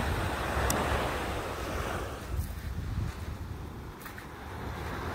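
Ocean waves wash onto a beach at dawn as a broad, steady surf roar with gentle swells, mixed with wind buffeting the microphone and no voices.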